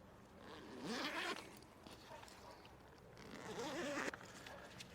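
Two quick zips of a clothing zipper, close and rasping, with a pause between them and a faint outdoor hush behind them at a cemetery at night.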